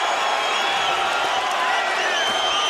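A boxing arena crowd roars steadily for Lucian Bute during his fight with James DeGale, a dense, continuous wash of cheering and whoops with no clear breaks.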